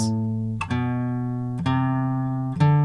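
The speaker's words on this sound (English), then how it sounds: "I could practice my major scale like this." Clean guitar notes played slowly one at a time, each plucked note ringing out about a second before the next, stepping through a major scale.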